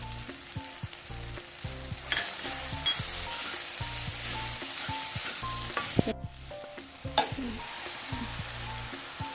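Browned onions sizzle in hot oil as turmeric, asafoetida and spice masala are added. Close, steady frying crackle is broken by repeated clinks and scrapes of a spoon stirring in the pan.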